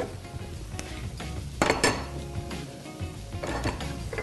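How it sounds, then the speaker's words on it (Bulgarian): Frying pan set down on a stove burner while cooking, heard as a few metallic clanks and clinks of cookware close by, over a low background hum with no speech. "слагам още един тиган на котлона."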